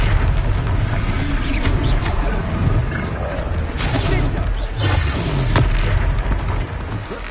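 The Confringo fire spell explodes during a boss fight in Hogwarts Legacy, a loud, dense rumble of booms and roaring game effects filling the whole stretch with continuous low-end noise.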